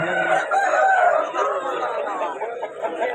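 Native country chickens and roosters crowd a busy poultry market in Vijayawada, with a rooster crowing and hens clucking against a steady background of crowd chatter.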